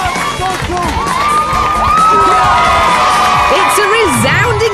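A large crowd cheers, whoops and shouts loudly at a Scrapheap Challenge roadshow race, with children's shouts and bellows mixing into a dense, continuous roar from start to finish.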